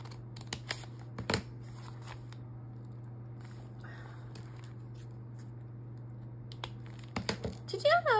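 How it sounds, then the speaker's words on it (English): Scissors snip out a pocket in a few faint, scattered clicks over a constant low hum in a quiet room, with someone speaking briefly at the end. "now I'm going to cut the pocket here"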